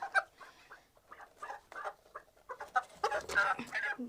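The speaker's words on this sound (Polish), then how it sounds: "To są wielkie kury." Large chickens cluck and squawk close by in short, choppy bursts, growing busier and louder toward the end.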